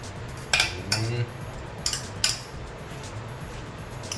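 Metal utensils clink against a bowl while bhel puri is tossed and mixed, with a few sharp scattered taps over a quiet background and no talking.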